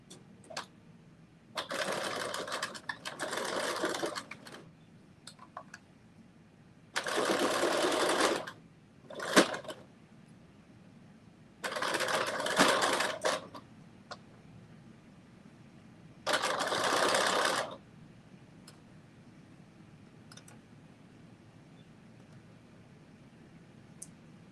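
A sewing machine stitches a 3/8-inch seam on a cropped bodice in four separate bursts of a few seconds each, with quiet pauses between them and no talking.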